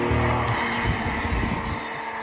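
A 1969 Porsche 911S ST tribute with a 3.4-liter twin-plug engine is driven, its engine and road noise filling the clip steadily and loudly from start to finish with no talk.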